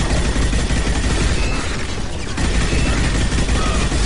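Dense, continuous gunfire from a Mass Effect shootout, loud and close, with rapid overlapping shots, sustained bursts and a short lull near the middle before the firing resumes.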